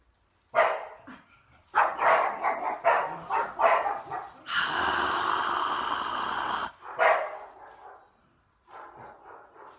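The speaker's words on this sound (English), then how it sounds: "It's just been like this all day. Just the barking." A dog barks in repeated bursts, loud and close, mixed with some growling and yips, with a sustained broadband noise in the middle of the stretch.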